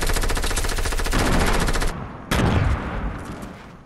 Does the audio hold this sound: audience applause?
no